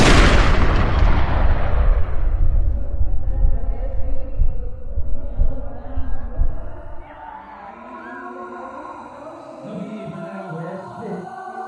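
Gunfire in a Lifetime-style drama film scene set around a church: a loud, dense burst of blasts and rumble that fades after several seconds into quieter, tense background music.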